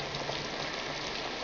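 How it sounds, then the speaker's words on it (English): Heavy rain pours in a steady, dense hiss with no breaks, close and continuous, with no voices over it. "It's raining pretty hard."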